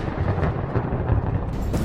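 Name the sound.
thunder from a thunderstorm, Plotagon animation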